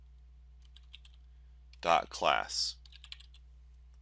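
Faint key clicks from typing on a computer keyboard while writing Android code, scattered before and after a short stretch of someone speaking over a low steady hum.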